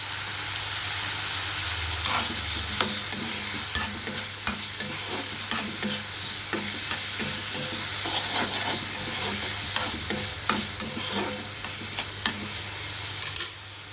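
Tomatoes and coriander sizzle in a hot pan while a utensil stirs them, with steady frying hiss and regular scraping taps against the pan, close and continuous.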